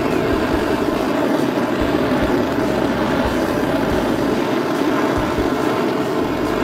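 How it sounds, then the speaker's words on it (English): A blowtorch lightly burning a wooden knife handle, a continuous loud roaring rush of flame, steady and unbroken throughout, close by. "Take your torch and just lightly burn it."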